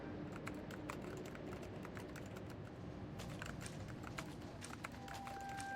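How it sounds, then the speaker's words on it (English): Rapid, irregular clacking of keys on a computer keyboard in the Psychonauts 2 video game, steady and fairly quiet over a soft background bed, with no talking. "That is not how you use a keyboard."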